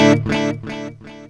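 Electric guitar through a digital delay effect set to a regular repeat: a distorted note followed by three fading echoes at an even rhythm, each repeat quieter, heard alone with no talk.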